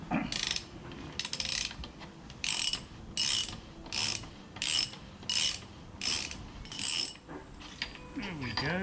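A ratchet wrench works the front axle bolt loose on a Suzuki DR650 motorcycle, close and crisp, in about eight rhythmic bursts of rapid clicking, with no talk.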